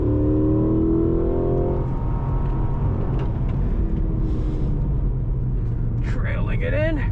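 A 2025 Cadillac CT5-V Blackwing Precision Edition accelerating hard out of a turn, its engine note rising steadily and loud under cabin rumble, then a brief exclamation from a voice near the end.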